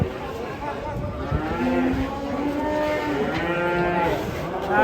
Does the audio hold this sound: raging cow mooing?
yes